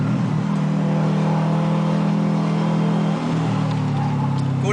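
A race car runs hard on the Subic race track, its steady loud engine drone holding near and constant throughout, with a brief dip in pitch near the end as it comes off the throttle.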